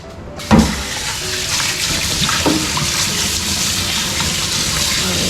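Running water splashes in a kitchen sink while vegetables and shrimp are washed, a steady near gush of tap water with a couple of sharper splashes, no talk.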